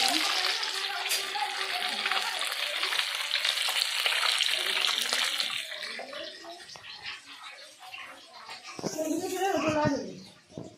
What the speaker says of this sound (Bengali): আর এখানে রান্না হচ্ছে, এখন মাছ ভাজা হচ্ছে।